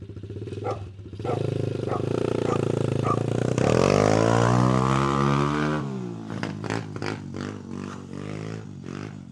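A motorcycle engine idles low and rough, then revs up into a sustained loud roar for a few seconds before settling back to an uneven, pulsing idle, heard close.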